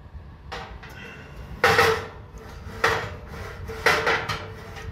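An oven door opens and a tray of chicken drumsticks slides in, with a few distinct knocks and clatters of metal and doors spaced about a second apart, close by.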